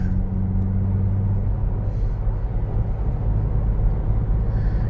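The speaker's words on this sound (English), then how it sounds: "Boy, traffic. Heavy here on Dale Mabry." Heavy road traffic on Dale Mabry rumbles past continuously, with low engine drone from cars and larger vehicles and a brief hiss like an air brake, loud and close with no talk.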